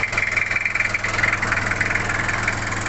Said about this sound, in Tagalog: nakita naman natin na umaandar ng makina